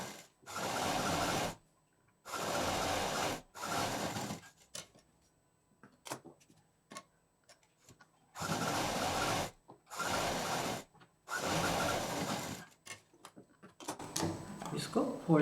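Sewing machine stitching fabric in bursts, a tailoring tutorial setting: several loud whirring runs of one to two seconds each, separated by pauses with soft handling noises and faint talk between them.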